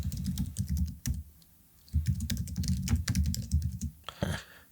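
Close, rapid typing on a computer keyboard, a dense run of clicking keystrokes with a brief pause before a second burst, no voices.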